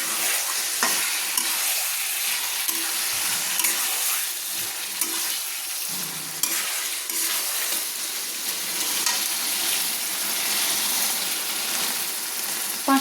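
Chicken with yogurt sizzles in a frying pan as it is stirred, a continuous moderate frying hiss broken by occasional scrapes and clinks of the spoon against the pan.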